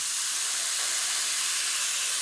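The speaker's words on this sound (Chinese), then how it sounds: "刚刚我们打的那个酱汁，对，就把它淋进来" Sauce poured into a hot pan of pan-fried firm tofu with garlic gives a steady, bright sizzle that hisses evenly throughout with no voices.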